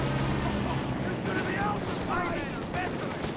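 A Luftwaffe aircraft strafing run in the WWII strategy game Company of Heroes 3, set in Sicily, heard as a steady roar of rapid machine-gun fire mixed with distant battle noise, with a caster talking over it.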